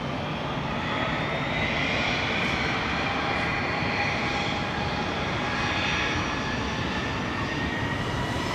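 An airliner roars down a wet runway at London Heathrow on an intersection departure, a loud, steady jet engine rumble with a whining tone that holds evenly throughout, no voices.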